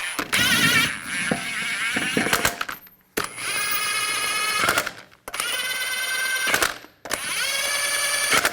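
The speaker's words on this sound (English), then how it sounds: "Now install the wheel. Put the lug nuts on." A power tool spins lug nuts onto a wheel of a 2007-2013 Chevrolet Silverado truck in four separate whirring bursts with brief gaps between them, loud and close.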